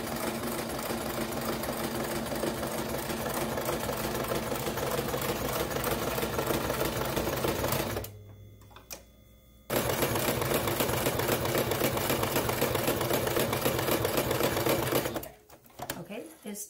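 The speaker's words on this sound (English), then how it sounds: "I'm going to sew the perimeter of the fabric" A sewing machine stitches around the edges of two pieces of fabric for a 3D face mask, running in a steady, close, rapid whir that pauses briefly in the middle and then stops near the end.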